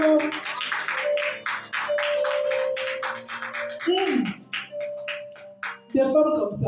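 A church congregation claps along in a steady rhythmic beat to acclaim the Lord, the applause running continuously beneath singing voices with a few louder bursts.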